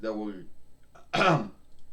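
A single throat clearing up close, a short harsh burst standing out after a moment of speech.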